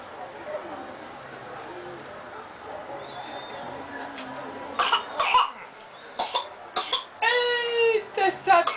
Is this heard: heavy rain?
no